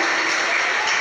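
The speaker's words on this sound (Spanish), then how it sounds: "¿Cuántos brindan al Señor un aplauso?" Applause in a church service, a dense steady wash of hand claps filling the whole second, with voices mixed in.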